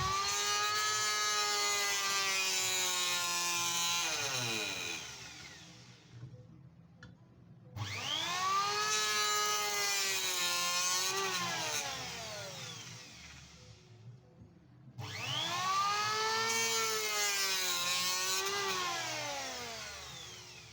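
A YUKIDO AB1900FW wood planer running three planing passes over a board, each a loud whining motor roar with rising and falling cutting pitch, separated by brief quieter pauses, no talking.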